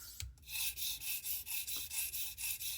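A knife blade is drawn repeatedly across an abrasive stone on a Tsprof Pioneer guided sharpening system during a full reprofile, giving a steady series of close, rhythmic rasping strokes, each one short and evenly spaced.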